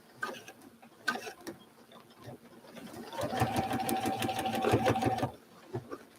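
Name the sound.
sewing machine stitching quilt fabric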